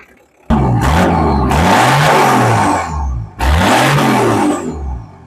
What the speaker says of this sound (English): Let's give her a few revs.